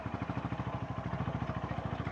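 A motorcycle labours up a rocky landslide-damaged mountain road in Himachal, its engine chugging in a fast, steady pulsing rhythm close up.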